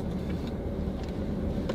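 A car being driven on a mountain road trip, a steady low rumble of engine and tyres heard from inside the cabin, continuous and moderately quiet with no voices.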